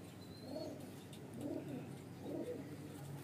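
A female Rampuri-breed baby highflyer pigeon cooing softly, three low, rounded coos spaced about a second apart, close but faint over a quiet background.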